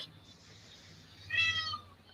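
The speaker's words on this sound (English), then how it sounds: "you can hear my beautiful cat" A pet cat at home gives a single short meow midway, fairly close and clear above a quiet room background, with nobody talking.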